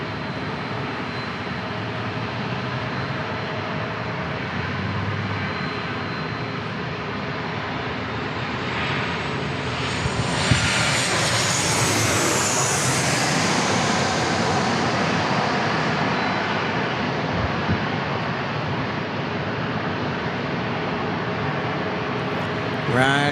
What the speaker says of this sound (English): David G says Lufty is landing at 3:16.